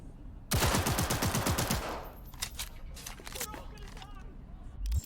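Automatic gunfire at a shooting range in Cyberpunk 2077 rattles out as a loud, rapid burst of a dozen or so shots over about a second, followed by scattered clicks and game sounds while a voice talks.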